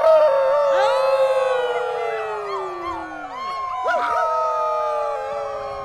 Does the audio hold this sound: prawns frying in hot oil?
no